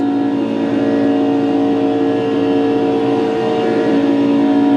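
A race car engine in a racing video game at Daytona drones loudly and steadily at a constant pitch during a parade lap, a continuous tonal hum with no talk over it.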